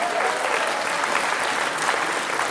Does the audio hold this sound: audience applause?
yes